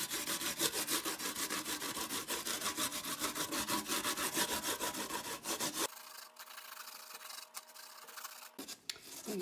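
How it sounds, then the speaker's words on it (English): Peeled ginger is rubbed against a grater in quick, even back-and-forth strokes, a close, loud rasping scrape that pauses near the end before a few final strokes. "I'm going to use the grater for the ginger."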